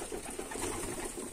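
Pigeons cooing at close range as they crowd onto scattered grain in a loft, a soft continuous murmur of low coos and rustling over a noisy background.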